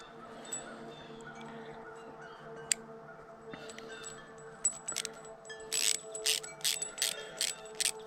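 A hose clamp on a leaky garden hose is tightened with a ratcheting tool, giving a series of rhythmic clicks toward the end over a faint background hum.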